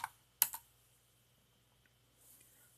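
A couple of quick keystroke clicks on a computer keyboard while a dir command is typed during a Debian 8 install, close and crisp, followed by near silence with a faint hiss.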